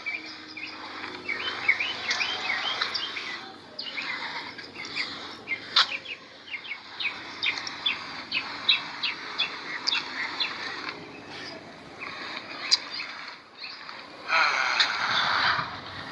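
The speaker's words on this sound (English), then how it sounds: "you hear a bird?" Birds chirp and call steadily over a soft background hiss, with sharp high tweets repeating throughout.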